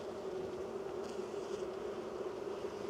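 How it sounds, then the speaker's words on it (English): Honey bees in a hive during a mid-winter apiary inspection give a steady, close, continuous buzzing hum with a slight swell partway through and no voices. "bee bread and bees everywhere"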